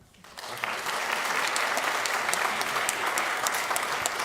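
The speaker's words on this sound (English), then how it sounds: "Everybody applause now." Applause from a congregation at a Shabbat evening service swells quickly from silence into a steady wash of many hands clapping, sustained and moderately loud for several seconds.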